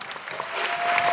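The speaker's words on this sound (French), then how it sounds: "Yes, clap." An audience at an evangelism gathering breaks into applause, a soft, continuous patter of clapping that swells slightly toward the end.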